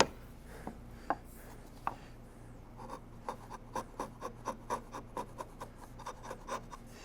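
A flat wide chisel pares end grain of wood for a half lap joint, giving a series of short crisp scraping slices in a fairly regular rhythm, close and quiet, with no talking.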